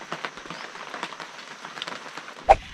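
Rain pattering steadily on a mountain trail at Phu Kradueng, a close field of soft drops with one sharper knock near the end and no talk.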